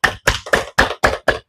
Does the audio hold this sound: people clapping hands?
yes